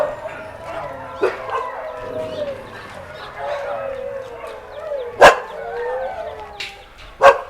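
Dogs at a rescue shelter bark and yip intermittently, with several sharp, loud barks near the end standing out over a murmur of other dogs in the kennel.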